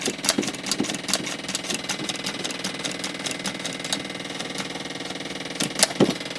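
An old engine at a vintage engine start-up gathering runs with a rapid, steady stream of firing pulses as the throttle is worked, loud and close, with a couple of sharper bursts near the end.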